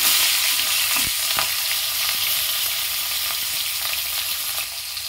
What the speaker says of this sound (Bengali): এবার সমস্ত মাছগুলো ভেজে নেব